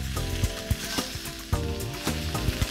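Oiled, salt-seasoned chicken wings sizzle hard in a hot pan inside a very hot oven, a dense close crackle with scattered sharp pops and light stirring clatter, and no voices.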